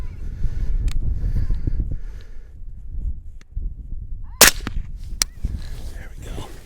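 A 10 gauge shotgun fires once at a coyote outdoors, a sharp loud blast standing out midway through low rumbling wind-like background, with a few fainter knocks and crow-like calls around it.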